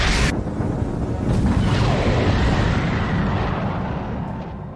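A massive explosion from the One Piece film Stampede, opening with a sharp blast, then a long roaring rumble and debris wash that slowly fades, loud and alone.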